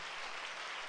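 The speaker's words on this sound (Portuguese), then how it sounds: "Por favor, dê um aplauso a quem" Church congregation clapping together during a Sunday service, a dense, even wash of applause that holds steady for a brief moment.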